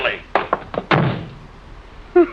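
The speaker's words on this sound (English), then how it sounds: "You shouldn't have slammed the door, Crane." A door slammed shut with a series of sharp, close wooden knocks and thuds in an old 1950s-style drama, followed by a brief quiet and a low voice at the end.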